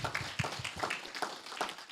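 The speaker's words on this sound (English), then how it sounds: "give one more round of applause to everyone who asked a question" Applause from an audience at a question-and-answer session: steady, dense clapping from many hands, moderately loud and continuing throughout, with no talking over it.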